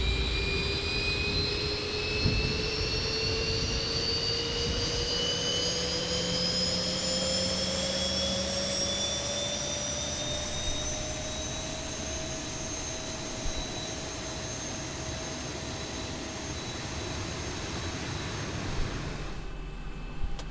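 A Boeing 737's number 2 jet engine spooling up in X-Plane 11, a steady whine that climbs slowly in pitch over a low rumble, continuous and unbroken, settling near the end.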